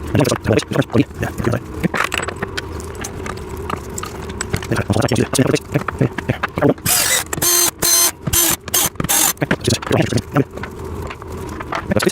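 Ratchet wrench tightening bolts while a part is bolted down, with rapid repeated clicking pawl strokes in quick bursts through most of the stretch, close and fairly loud, a few pauses between runs.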